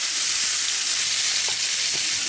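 Pointed gourd (potol) frying in a pan gives a steady, close sizzle from start to finish, with a couple of faint soft clinks and no voices.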